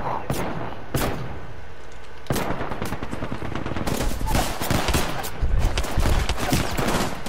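Gunfire in the game Apex Legends, starting with a few sharp single shots and then building into dense rapid automatic bursts with thumping impacts, loud and close throughout.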